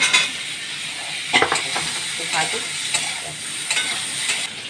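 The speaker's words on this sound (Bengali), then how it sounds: "আলুটাও দিয়ে দিলাম ভাজার জন্য।" Potatoes fry in oil in a pan, a loud, dense sizzle broken by repeated scraping and stirring strokes of a spatula against the metal, all near and without speech.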